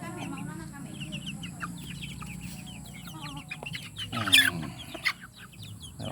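Basilan crossbreed native chickens and chicks cluck and peep continuously nearby, with a louder squawk partway through and some low voices in the background.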